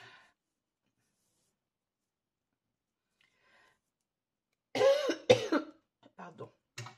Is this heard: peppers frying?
no